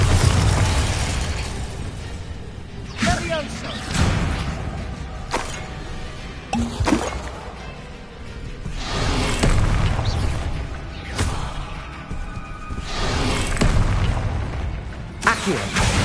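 Repeated Bombarda blasting spell explosions in the video game Hogwarts Legacy, heavy booms recurring every few seconds amid mechanical clanks, with a voice shouting spell names between them.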